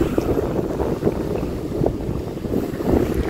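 A speedboat tows a tubing donut ride at a Bali watersports beach, giving a steady engine and water rush buffeted by wind noise on the microphone, with no talking.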